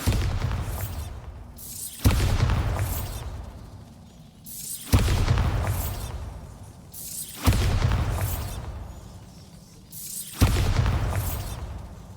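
Bombarda explosion spell cast repeatedly in Hogwarts Legacy, five sharp blasts at roughly two-second intervals, each a sudden loud crack followed by a long rumbling decay.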